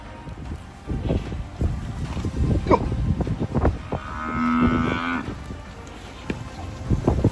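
A herd of cattle lowing loudly during a fight with a lion, repeated moos rising over rustling and wind noise, with one long, clear call standing out near the middle.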